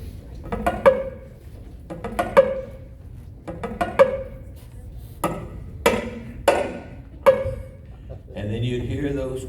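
A banjo imitates a grandfather clock being wound with a big key, giving a run of sharp plucked clicks in short bursts with gaps between them, alone and fairly close.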